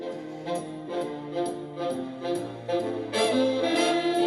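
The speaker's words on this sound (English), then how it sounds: "this is the sound of a CD jazz kind of album" Smooth jazz plays continuously from a small CD cassette boombox speaker, with a steady bass line and melodic instruments at moderate volume, no voices.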